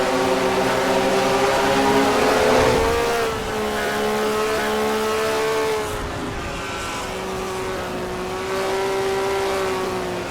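In-car sound from a stock car during a Mello Yello Racing Series race at Opryland, a loud, steady engine drone with its pitch rising and falling as the driver shifts and holds throttle.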